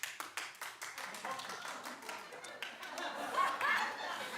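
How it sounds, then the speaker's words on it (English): Studio audience clapping on a talk show, a quick patter of hands at the start that thins into scattered claps with some chuckling and murmur, fairly faint and distant. "Clap if you'd like to see a spin-off."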